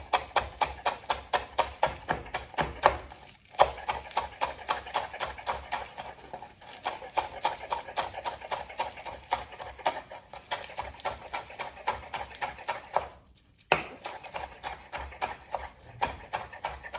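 Knife chopping onion and parsley for hot and sour cabbage, a fast, steady run of sharp close cuts on a board, with a few brief pauses and no talk.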